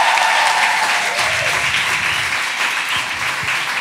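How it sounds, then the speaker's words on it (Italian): Loud, continuous applause from a podcast audience fills the whole short stretch, with a few low thumps mixed into the clapping. "fate un grande applauso a Tahir Hussein"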